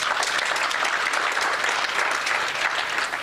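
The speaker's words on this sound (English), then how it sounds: "Can we give ourselves a very good round of applause?" Steady, dense round of applause from an audience at a government Transport Month launch event, continuous and fairly loud throughout with no talking over it.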